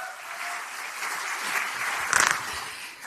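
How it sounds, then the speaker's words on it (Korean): Audience applause fills a hall at a Democratic Party joint meeting of regional committee chairs and lawmakers, a steady wash of many hands clapping that swells slightly near the end. "여러분, 서영교 최고위원님 박수 보내주시기 바랍니다"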